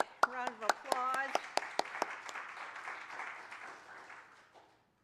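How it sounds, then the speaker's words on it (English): An audience at a shared prayer gathering applauds: a few sharp claps start under a speaking voice, swell into a dense round of clapping, then fade away to silence. "Let's give Beth a big round of applause."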